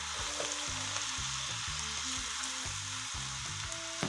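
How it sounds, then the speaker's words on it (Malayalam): Pickled jackfruit curry sizzling in a pan while being stirred, a steady close frying hiss with repeated scraping strokes of a spoon, no voices. "അപ്പോൾ നമ്മുടെ ചക്കയൊന്ന് ഇളക്കിയിട്ട് കൊടുക്കാവേ നമുക്ക്."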